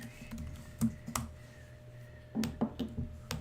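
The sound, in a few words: button clicking on computer equipment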